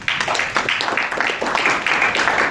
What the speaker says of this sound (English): One round of applause once again,